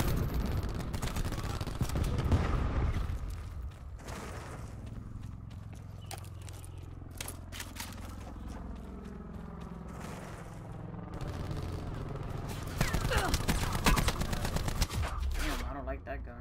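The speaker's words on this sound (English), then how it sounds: "Cluster grenade, enjoy." Cluster grenade blasts and gunfire from the Black Ops 4 beta shooter game rumble and crack through a dense, loud battle mix, with a voice talking over the chaos.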